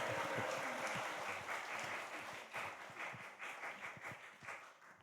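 A church seminar audience claps to welcome a pastor to the front, a faint, distant patter of many hands that runs steadily and slowly thins out toward the end.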